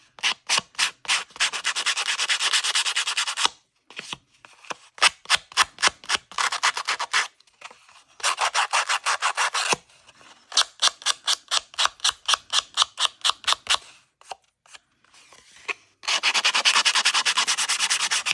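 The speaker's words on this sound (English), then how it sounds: "I do have a sanding tool on my desk." A sanding tool roughens and distresses the edges of a craft junk-journal page in bursts of quick, rasping back-and-forth strokes, some long steady scrubs, with short pauses between and no talking.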